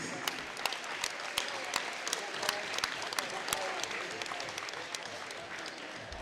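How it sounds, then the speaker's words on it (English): Audience at a high school gym wrestling tournament applauding its supporters, a dense, steady clapping from a crowd that lasts the whole stretch, with some voices mixed in. "let's give a big round of applause for these guys and ladies"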